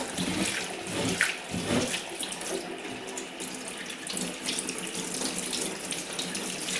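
Tap water runs steadily as a paint roller is rinsed clean under it. The close, continuous splashing and gushing shifts slightly as the roller moves, with no voices.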